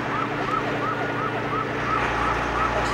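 A police car siren wails in a fast, evenly repeating rise-and-fall pattern, loud and continuous over a low engine hum.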